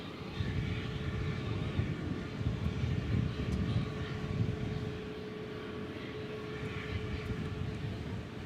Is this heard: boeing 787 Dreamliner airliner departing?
yes